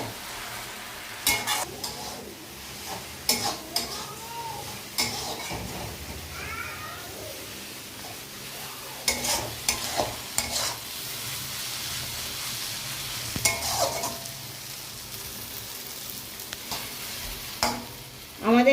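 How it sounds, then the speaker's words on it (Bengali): Water spinach (kalmi greens) with shrimp stir-fries in a pan, giving a soft continuous sizzle with irregular scraping and stirring clatter, while a cat meows briefly in the background. "এবার আমরা সব একসাথে ভেজে নেব।"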